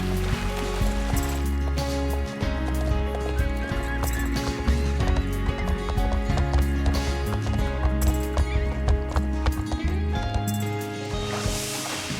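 Rhythmic hooves clip-clopping at a steady gallop with an occasional horse whinny, loud and continuous over game music in the video game Star Stable Online.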